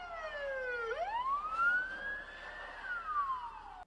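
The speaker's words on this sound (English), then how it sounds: "Suddenly, a police car came at high speed." A police car siren wails close by as the car speeds through a street, its tone dropping sharply and then climbing into a long rising and falling sweep, loud and alone with no talk.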